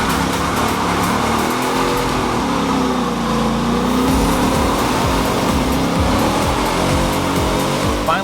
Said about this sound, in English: Now, this just makes big smoky burnouts that much easier.